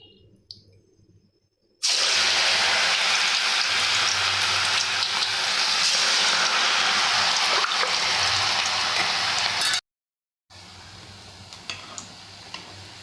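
Cabbage ulli vadai fritters sizzle steadily in hot oil, a loud, continuous bubbling crackle broken by a short gap and occasional light taps as the pieces are turned.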